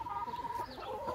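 Chickens clucking up close, a quick run of throaty, uneven clucks and squawks over about a second, alone with no talk.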